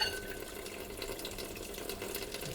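Water runs and splashes steadily as a sponge scrubs during washing, a continuous close wet rush with small sloshing accents throughout.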